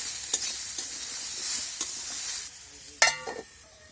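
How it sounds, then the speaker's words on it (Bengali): Vegetables with turmeric and salt stirred in a frying pan, a soft steady sizzle under occasional scrapes of a utensil, ending in a sharper clatter. "সব কিছু নাড়াচাড়া করে নিয়ে আবার আমি ঢেকে দেবো।"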